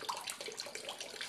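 Soapy wash water draining out of a biodiesel barrel outdoors, a steady close hiss of trickling, splashing liquid that runs continuously without pause.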